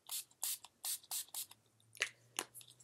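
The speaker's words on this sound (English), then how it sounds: "I primed with the NYX Primer Spray." A cosmetic primer spray bottle, NYX Primer Spray, is pumped several times in quick succession, each short bright hiss close to the microphone, followed by a couple of softer, irregular spritzes.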